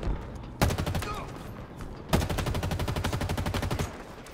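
Desert Eagle pistol fire in a video game, two loud rapid bursts of repeated gunshots in a fast even rhythm, close and punchy, with a brief lull between them.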